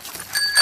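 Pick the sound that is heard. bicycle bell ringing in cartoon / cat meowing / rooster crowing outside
bicycle bell ringing in cartoon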